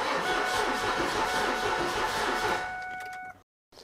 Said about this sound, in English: Let's kick the key on, spin the engine over, and evacuate the cylinders on that side.